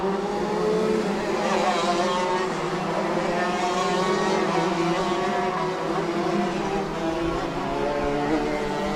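Shifter karts, including FZ 65 cadet, FZ 85 junior and FZ 125 senior classes, race around the Adams Motorsports Park track, their high-pitched engines droning continuously and fairly close, with a faint voice underneath.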